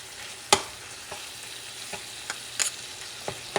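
Puerto Rican plantain stuffing with chopped olives and sweet pepper frying in a pan, a close sizzle punctuated by sharp utensil knocks and scrapes as it is stirred.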